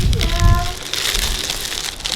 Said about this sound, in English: Oh, it's like shrink wrap.